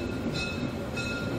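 Molli narrow-gauge steam train rolling through a town street crossing in Bad Doberan, a steady continuous rumble of wheels and carriages with faint squeal, close and loud, no talking.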